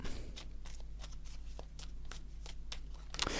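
Tarot cards are shuffled and drawn up close. A quick, steady rhythm of soft riffling flicks ends in a slightly sharper snap.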